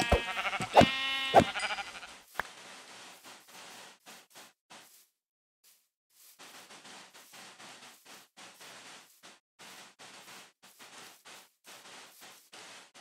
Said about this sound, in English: Hey, look, another sheep.